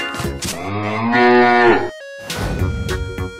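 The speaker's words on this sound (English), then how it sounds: "Cow." A cartoon cow lets out a loud, drawn-out moo, then a second rising moo after a short pause, heard alone without speech.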